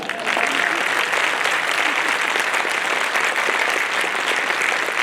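Loud, sustained clapping from a large audience at a speech on culture, a dense, even roar of hands that starts after a brief quiet moment and holds for about five seconds.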